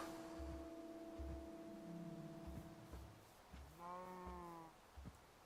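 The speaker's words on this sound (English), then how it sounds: "It didn't die, I just heard it mooing." A Minecraft cow lets out a single drawn-out, wavering moo, faint and somewhat distant, near the end of a stretch of low game hum and soft repeated thumps.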